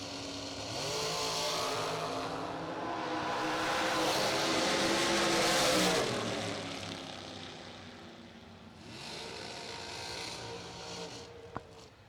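A dragster launches down the strip in a round 1 bracket race. The engine roars loud and steady, swells and then fades as the car runs away, and a second surge of engine noise follows.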